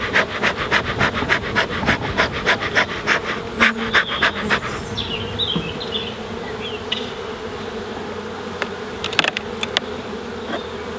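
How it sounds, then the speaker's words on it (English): Honeybees buzzing from an open hive, a dense loud drone near at hand, with rhythmic scraping or tapping of hive parts during the first half and occasional knocks later. "this is a nice busy hive"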